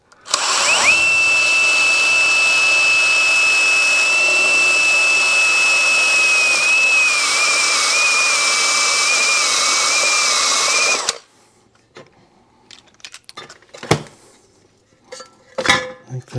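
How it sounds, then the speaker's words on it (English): A power drill bores into a Yamaha 250MX motorcycle air box with one loud, sustained high whine lasting about ten seconds, then stops, leaving scattered small clicks and knocks. "let's get it drilled."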